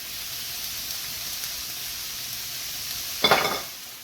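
Onions frying in olive oil, with a steady bright sizzle like light rain running throughout and one louder clatter or stir near the end, close.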